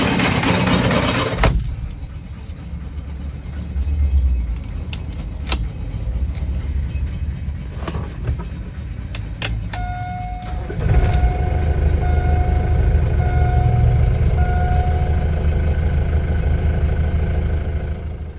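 Mahindra Bolero DI Turbo 4x2 diesel engine running, a steady mid-range engine drone with rattles and clunks from the vehicle body, then a brief whine and a fuller, rougher engine note in the latter half.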